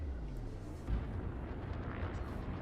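Spaceship weapons firing in a space combat game, a steady roaring barrage of low booming blasts with one heavier thump, dense and continuous with no talking.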